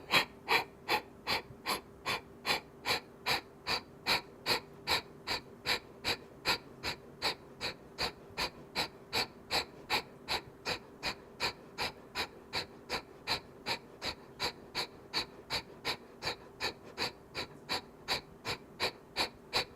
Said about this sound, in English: We'll do another round of Kapalabhati.